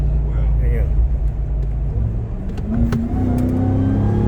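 Ram TRX pickup truck accelerating from inside the cabin, a loud steady low engine rumble that rises in pitch toward the end, with people talking over it.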